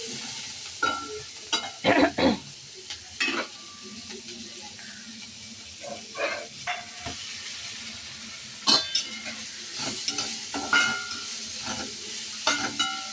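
Long-sliced onion sautés in a pan, a soft sizzle beneath intermittent stirring scrapes and utensil knocks, with faint background voices now and then.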